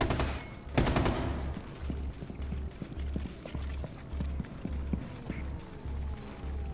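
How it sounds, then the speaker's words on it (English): Gunfire in the video game Rainbow Six Extraction, shooting at anchor points: a loud opening burst, then steady rhythmic thudding shots and pulses repeating under a droning game background. "Aim at the anchor points and shoot when they open."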